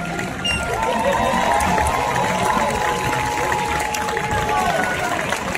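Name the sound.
street audience cheering and applauding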